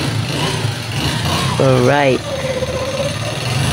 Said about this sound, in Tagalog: pakinggan nyo muna kung ano yung tunog ng kanyang makina